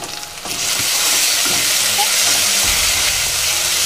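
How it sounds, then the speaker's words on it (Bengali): Onion with ginger-garlic paste and green chilli paste fries loudly and steadily in a pan, a dense close sizzle with a few stirring scrapes underneath. "এবার পেঁয়াজের সঙ্গে ভাজা ভাজা হতে থাকলে পেঁয়াজটা আর একটু লাল লাল করে ভাজা ভাজা হয়ে যাবে"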